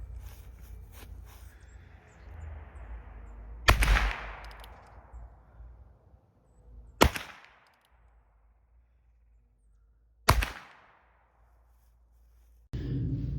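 Three sharp .22 LR gunshots fired at a Level 3A armor plate, widely spaced and loud, each with a short ringing decay, over a faint background rumble.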